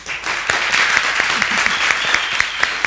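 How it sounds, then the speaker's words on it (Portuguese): Audience applause at a public class event in a school, dense steady clapping from a crowd filling the whole stretch at a moderate, even level with sharper individual claps poking through. "Uma salva de palmas para o nosso primeiro convidado, o Sr. Daniel."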